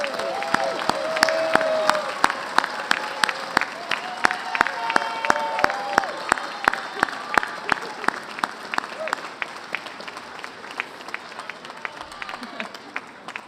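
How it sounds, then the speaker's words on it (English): Graduation ceremony applause, a crowd clapping steadily with sharp individual claps standing out. It stays fairly loud, then slowly thins and fades toward the end. "join us in a round of applause to your parents, grandparents, children, spouses, loved ones, friends"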